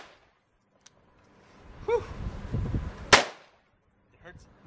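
Shots from a Taurus Judge Public Defender Poly revolver fired outdoors, with one sharp loud report standing out, a faint earlier crack, and scattered rumble and distant noise around it.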